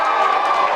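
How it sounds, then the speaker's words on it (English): A dense crowd roars and cheers steadily at a live professional wrestling show as one wrestler rains elbows on the champion, the noise loud, close and continuous with no gaps. "And you can hear the crowd getting behind"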